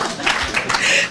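Brief burst of audience applause at a women's day panel discussion, a short flurry of hand claps close and moderately loud, lasting about a second.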